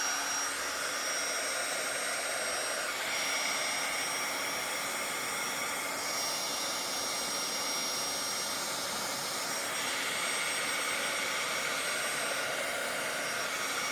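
A handheld heat tool blows hot air onto stretchy polyester skirt fabric, producing a continuous loud fan roar with a high whine that shifts slightly in tone as it moves, with no talking.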